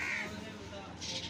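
Crows caw among a group of birds, harsh calls heard against a busy outdoor background with a person talking over them.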